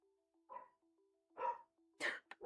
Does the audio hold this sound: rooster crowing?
no